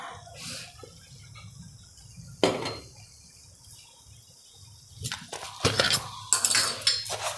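A spoon scrapes and clinks against a pan while chili halwa is stirred over low heat. The sharp metallic knocks come in irregular bursts between quieter stretches, with no voices.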